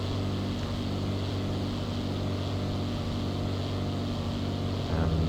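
Cessna 150 engine running in the FlightGear flight simulator, with the aircraft in a faulty, overheating state: a steady, continuous propeller-engine drone holds at even loudness throughout, with no speech.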